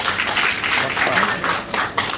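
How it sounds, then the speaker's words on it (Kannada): Audience applause at a stage event, a dense steady wash of clapping sustained throughout, loud and close with no break. "ಇವ್ರಿಗೆ ಚಪ್ಪಾಳೆ ಬರಬೇಕು"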